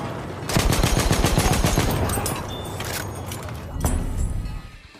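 World War I guns fire in the video game Battlefield 1: loud, rapid machine-gun bursts crackle and rattle close by, easing off into scattered shots and a final sharp blast.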